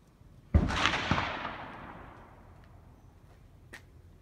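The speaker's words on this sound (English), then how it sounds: "I'm having fun shooting today" A single sharp rifle shot cracks out during a live shooting demonstration using a paraplegic rifle rest, followed by a long, fading echo and a faint click a few seconds later.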